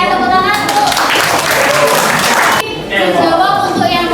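A classroom of students clapping during a coding and artificial intelligence training session, a close, fairly loud burst of mixed clapping that briefly dips and resumes.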